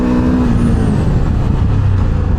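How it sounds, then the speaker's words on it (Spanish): A Ducati Hypermotard V2 motorcycle brakes hard on its front brake from 90 km/h. Loud, dense wind and road roar runs continuously with a low engine drone fading beneath it. "probemos una buena frenada con el freno delantero a 90 por hora"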